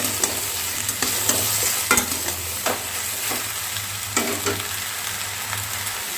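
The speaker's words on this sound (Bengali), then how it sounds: "একটু 5 মিনিট এরকমভাবে একটু ভাজা করে নেব" Sponge gourd (dhundul) fries in a pan while being stirred, with a steady close sizzle and repeated scraping stir strokes every second or so, no voices.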